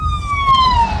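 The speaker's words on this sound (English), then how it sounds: "there's an ambulance." Ambulance siren passing on a road, a loud close wail sliding downward in pitch over about a second, with low road and engine rumble underneath.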